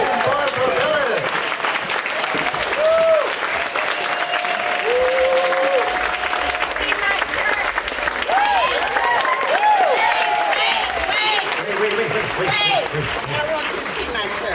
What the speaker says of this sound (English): Please give a large round of applause. Standing ovation for Senator Sullivan and Barbara Billups.